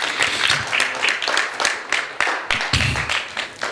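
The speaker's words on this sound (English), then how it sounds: "Shall we clap our hand and say thank you?" A church congregation claps hands in thanks during a sermon, a dense, steady patter of many hands lasting throughout, loud and fairly close, with a brief dip near the end.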